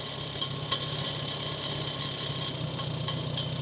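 Farmall 140 tractor engine pulling off in first gear, a steady mid-pitched idle-like rumble with a faint knock, running evenly throughout with one brief clunk early on; no one talks.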